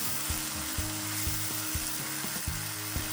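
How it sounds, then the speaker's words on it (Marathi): Ground masala paste sautéing in a pan for paneer tikka masala, a loud steady sizzle with regular scraping knocks from the spatula, close up and without talk. "याला पण असं परतून घेणार आहे छान."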